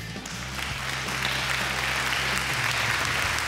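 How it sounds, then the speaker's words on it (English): A seated audience at a palm oil cooking event in Pakistan bursts into steady, sustained applause, a dense wash of clapping that builds slightly and holds, with a low hum underneath. "Clap for her."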